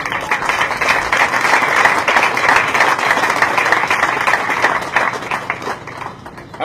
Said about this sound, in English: Let us recognize them by also giving them a wonderful applause.